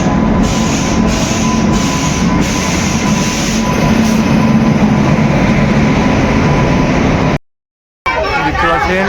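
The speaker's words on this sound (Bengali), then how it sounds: "দেখতে পাচ্ছেন ট্রেন ঢুকে পড়েছে।" The Howrah Janshatabdi express, running late behind a WAP7 electric locomotive, rolls into a station with a loud, steady rumble and rhythmic wheel clatter over a crowded platform's babble, then cuts out briefly near the end.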